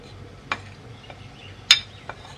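A spoon mixes flour, cornflour and baking powder on a plate, making a few sharp, close clinks and light scrapes spaced about half a second apart against a quiet background.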